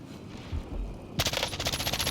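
Automatic gunfire from an M13 rifle with a 30-round magazine in the video game Warzone: a sudden loud burst of rapid shots after a quieter stretch, continuing steadily to the end.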